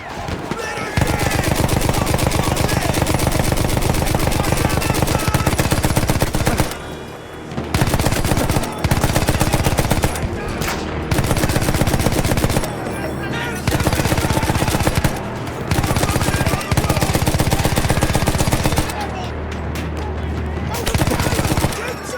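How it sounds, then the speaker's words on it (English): Machine gun fire rattles through a Battlefield 1 war battle in long, loud bursts with brief pauses between volleys, mixed with other gunshots and shouted voices. "Keep shooting!"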